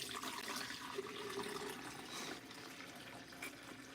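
Water pours steadily into a container while measuring out a batch of liquid hand soap base, a continuous soft splashing stream heard close up.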